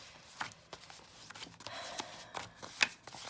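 A homemade tarot deck made from cut-and-pasted index cards is shuffled by hand, giving soft, close papery riffles and flicks with faint, uneven rustling.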